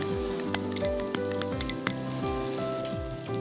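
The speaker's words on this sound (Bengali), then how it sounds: "এখন হচ্ছে আমি পেঁয়াজ কুচি দিয়ে দেবো এক টেবিল চামচ করে" Chopped onion fries in hot oil with garam masala, giving a steady soft sizzle with a few sharp clinks of a spoon against the pan, close and without talk.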